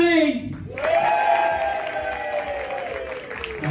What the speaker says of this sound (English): Ladies and gentlemen, please welcome live on stage,